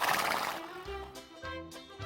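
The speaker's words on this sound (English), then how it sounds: "This horse is big." A horse on a farm gives a few short neighing calls, close and fairly loud, one after another over a soft broadband noise that opens the clip.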